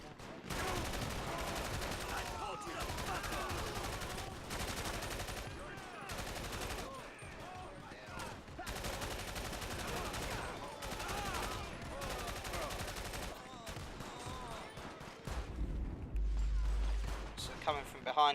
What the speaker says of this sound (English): But thank goodness they're only armed with pistols and nothing else at the moment, especially this close range.